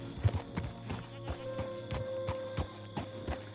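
Horse hooves clip-clopping in the video game Red Dead Redemption 2, a steady walking rhythm of close, distinct hoof falls over a soft ambient game backdrop.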